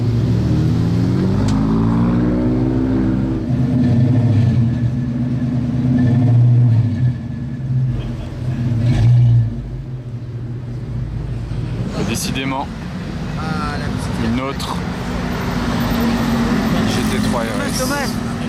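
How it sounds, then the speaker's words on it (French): Engine of an old Ford Mustang rumbling low and steady, with a revving swell midway, heard at a busy street car gathering in Paris while voices talk over it. "Pour les fans d'anciennes Mustang, j'en ai une parfaite pour vous"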